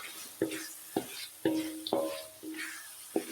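Fried tofu is stirred into cooked chili paste in a pan, with a series of close, sharp scraping and clacking strokes of a utensil over a soft sizzle, about six strokes in a loose, uneven rhythm.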